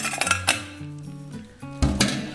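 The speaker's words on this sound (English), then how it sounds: "Then I pour the berries" Berries are poured into a metal pot at home while making jam, giving several clinking, rattling knocks of fruit and metal, with a sharp clatter near the end and no voices.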